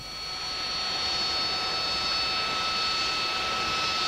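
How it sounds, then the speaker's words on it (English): A Harrier GR7 jet at a 1993 Biggin Hill air fair gives a loud, steady roar with a piercing high whine that builds slightly over the opening second and then holds, heard with no voices. "This is the latest mark of Harrier, the GR7."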